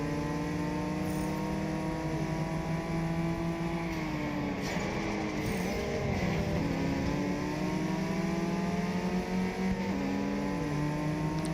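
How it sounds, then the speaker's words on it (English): Engine of a nearby car in the racing game Test Drive Unlimited Solar Crown, a loud steady drone whose pitch climbs and shifts through gear changes, continuous with no talk. "Sounds like there's a car right behind me."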